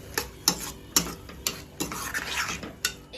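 Spatula knocking and scraping in a pan as crushed green chili and garlic paste roast with tomatoes, regular close taps about every half second over a faint sizzle, no voices.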